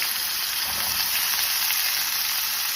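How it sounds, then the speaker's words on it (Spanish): Pork searing in hot oil over medium heat for a pork Wellington, a steady loud sizzle and crackle of frying with no pauses. "when you see that the oil is ready, little bubbles there, we're gonna put the pork in there. And we're gonna sear"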